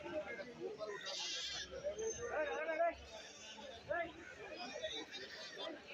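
Goats bleat repeatedly at a busy goat market, with many voices of buyers and sellers chattering in the background throughout.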